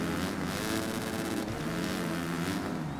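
A 250F motocross bike engine in MXGP3 screams at high revs, a steady, loud buzzing drone that holds near the rev limiter with slight pitch wavering throughout, heard alone.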